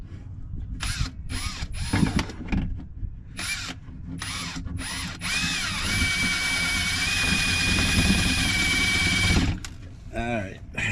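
A drill bores into a 2012 Jeep oil pan, whining in short bursts and then a sustained run of several seconds, close and loud, with someone talking between bursts.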